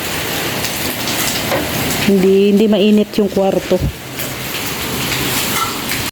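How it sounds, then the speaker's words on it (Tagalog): Heavy rain pours steadily outside a screen door of a house, a dense continuous hiss throughout, with someone speaking briefly over it midway. "lumakas na yung ulan"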